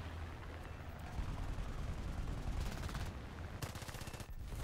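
Aircraft cannon fire in War Thunder, loud rattling bursts that come and go over a steady engine drone, with a sharper volley near the end.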